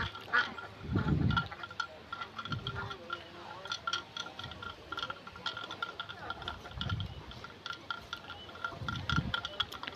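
Ducks quack in short low bursts at a farm, several calls spread across the clip over a steady outdoor background with faint clinks.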